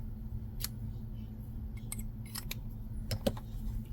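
Scissors snip through yarn while finishing a Hello Kitty crochet amigurumi kit, giving a few short, crisp clicks spaced over a steady low background hum, fairly close and quiet.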